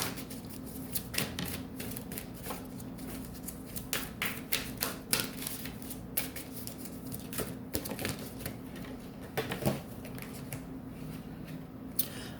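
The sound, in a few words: shuffling tarot cards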